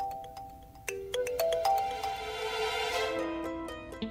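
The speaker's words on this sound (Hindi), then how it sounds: "कौन फोन कर रहा है यार?" A phone ringtone plays a repeated melodic electronic pattern, fairly loud and clear, continuing for several seconds with no talk over it.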